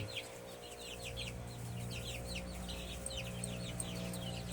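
Backyard chickens cluck softly and steadily in a coop, faint and somewhat distant, over a low background hum.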